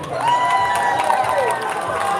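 An outdoor audience at the Grand Central Floral Parade cheers and claps for the Everdance dance school, a lively crowd roar of voices and applause under a sustained tonal sound.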